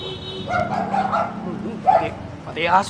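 A small dog yaps and whimpers in short bursts, close by, with people talking over and around it.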